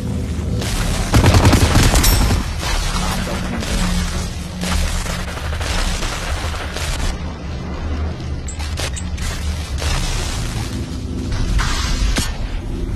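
Gunfire and grenade blasts from the VR battle royale game Population: One, a heavy burst of bangs early on followed by continuous rattling shots and booms of varying loudness throughout, with no clear voices.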